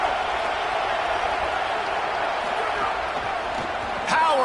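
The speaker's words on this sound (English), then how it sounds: "Big 3rd down as the crowd gets behind this defense." A stadium crowd roars in a college football video game during a BYU versus Ole Miss playoff matchup on a big third down, a loud steady wash of cheering that swells near the end.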